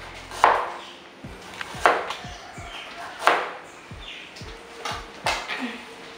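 A very sharp knife chops through vegetables on a cutting board for escovitch lobster, about ten quick, crisp knife strikes in an uneven rhythm, close and fairly loud, with faint kitchen background.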